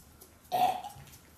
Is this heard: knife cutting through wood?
no